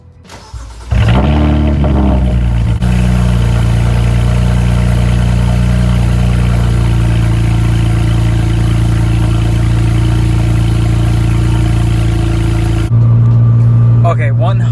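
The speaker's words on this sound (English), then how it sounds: "So now we're gonna do our first cold start after the Walnut blast, see if we can tell a very big difference." A BMW 335i engine after walnut blast cleaning of its intake valves cranks, fires and settles into a loud steady cold idle held close to the mic, then a brief rev near the end.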